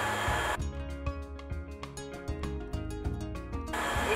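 A sewing machine runs top stitching on a lehenga, a rapid even mechanical chatter of the needle for about three seconds, close and steady, with handling noise before and after.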